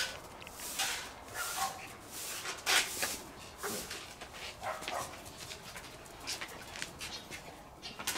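A four-month-old long-haired German Shepherd puppy whimpers and gives scattered short barks and yelps in uneven bursts, close by and moderately loud, throughout the stretch.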